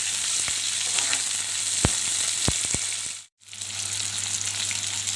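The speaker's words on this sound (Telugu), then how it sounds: "జీలకర్ర, పచ్చిమిరపకాయ, ఎర్రగడ్డ, కరివేపాకు ఇలా వేసి వేయించుకోవాలి" Cumin, green chillies, onion and curry leaves frying in oil for a raw mango pulihora, a steady close hiss broken by a few sharp ticks and a brief dropout, no voices.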